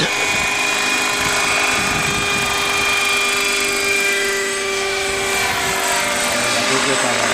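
A small RC helicopter engine drones loudly and continuously with a high buzzing whine, running nearby, with people talking over it.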